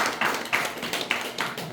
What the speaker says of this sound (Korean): 우리 격려의 박수를 함께 하겠습니다